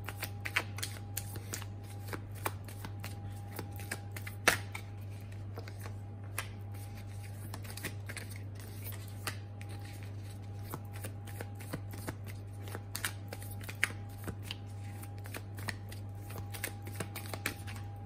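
Oracle cards are shuffled and drawn in a steady stream of soft riffling and flicking, close by over a constant low electrical hum, with no speech.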